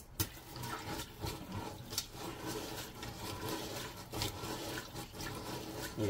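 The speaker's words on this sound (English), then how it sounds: "Pour it out, rinse and repeat." Dishwashing water is poured out and rinsed, with several seconds of close, faint splashing and running water broken by a few sharp knocks and clatters of dishware.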